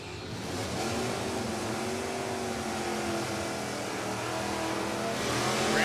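A drag race launch between a 1983 Camaro with a 305 cubic inch small block and an automatic 1994 Caprice at New England Dragway: loud, sustained engine roar held steady for several seconds.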